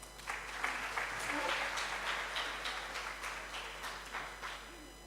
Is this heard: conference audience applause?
yes